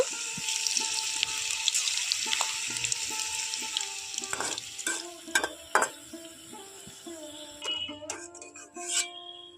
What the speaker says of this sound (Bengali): এখন বাদ বাকি সবগুলো আমি একটা একটা করে ভেজে নেব